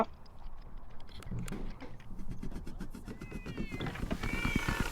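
A cat meowing in the horror video game Ice Scream Chapter 2, short high mews rising near the end over ticking and clattering in-game sounds.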